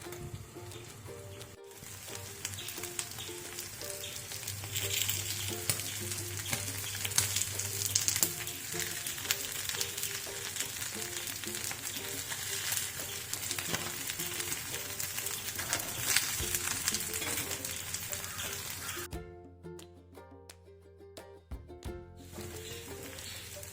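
Sardines coated in ground green peppercorn paste frying in a covered pan, a loud continuous sizzle and crackle that cuts out abruptly near the end, then returns more faintly.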